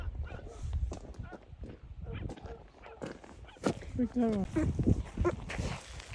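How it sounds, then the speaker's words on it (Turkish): Dogs barking and whimpering at a distance amid outdoor noise, with people talking over them. "Fazlasıyla köpek var orada."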